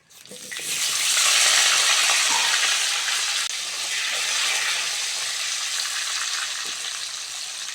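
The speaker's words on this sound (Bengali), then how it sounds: "ওই তেলের মধ্যে আলুগুলো দিয়ে দেবো" Potatoes dropped into hot oil, a loud, close, continuous crackling sizzle that surges at the start and then settles into a steady frying hiss.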